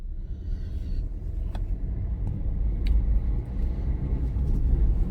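A Maruti Swift car drives along a road near Jodhpur, giving a steady, close low rumble of engine and tyres throughout with no pauses and no talk.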